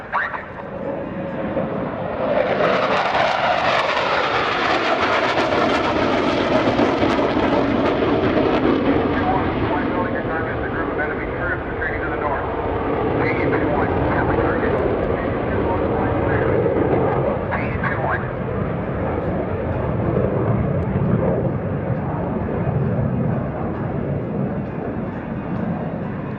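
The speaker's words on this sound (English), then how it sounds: "Precision strafe attacks from the Super Hornets." Super Hornet jets fly a strafe attack pass at the 2018 NAS Oceana airshow, a loud broad jet roar swelling in and holding for a long stretch before easing slightly, with an announcer's voice over it.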